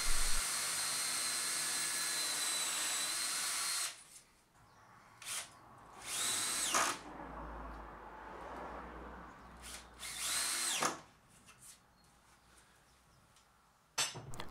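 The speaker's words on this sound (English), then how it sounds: "So I drilled and countersunk a couple more holes and then put some screws in." Power drill boring and countersinking holes in a workbench top, then driving screws, with Axminster UJK Parf Guide System bench parts nearby; a loud continuous drill run gives way to several shorter bursts of close screwdriving separated by quiet pauses.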